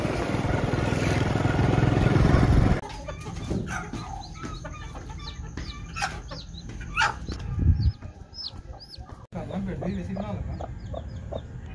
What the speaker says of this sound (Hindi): मुर्गी और बच्चे जो अब हम छत पर ले रहे हैं,